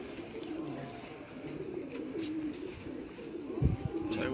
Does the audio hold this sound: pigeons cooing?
yes